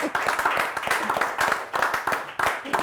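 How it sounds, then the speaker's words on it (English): Applause and clapping for a contestant at a quiz show grand finale, heard as loud, closely spaced clap bursts from a nearby audience in a lively, uneven rhythm over a few seconds. "Can we have a big round of applause"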